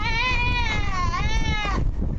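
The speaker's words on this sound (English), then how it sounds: "It sounds like the screams of a baby, and it is a baby goat." A baby goat screams in a loud, continuous, high-pitched wailing cry that rises and falls in two long strained bleats, heard close up over low background rumble.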